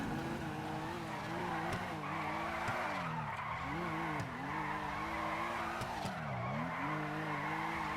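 In GTA 5, a car drifts with loud, continuous tire squeal over a revving engine, the pitch sweeping up and down as it slides through repeated angles, with no voices.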